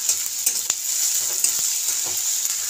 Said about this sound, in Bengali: পেঁয়াজটাকে নেড়ে দেব, খুব ভালো করে পেঁয়াজটা ভেজে দেব।